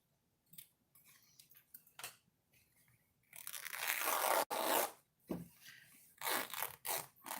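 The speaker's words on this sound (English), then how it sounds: "Once you get a good tear, then give it a rip" Fabric is ripped by hand in several quick, harsh tearing bursts after some quiet handling and rustling, loud and close with short pauses between rips.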